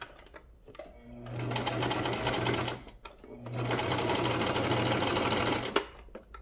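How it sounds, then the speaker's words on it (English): A sewing machine stitches scrap fabric in two steady runs of a few seconds each, a close mechanical whir with a low hum, separated by a brief pause. "put your presser foot back down, and keep sewing."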